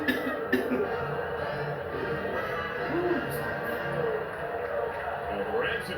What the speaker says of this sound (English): This cough needs to die that I have.